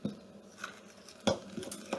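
Edible flower cookie dough being mixed in a bowl, with scattered clinks and scrapes of a utensil against the dish, a few sharper knocks standing out, close and fairly quiet with no voices.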